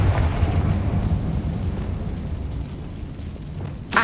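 Deep rumbling blast from the Confringo explosive spell in Hogwarts Legacy, a heavy boom that rolls and slowly fades, with a sharp crack near the end.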